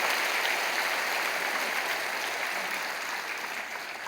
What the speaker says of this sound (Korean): 크게 박수로 환영하실까요?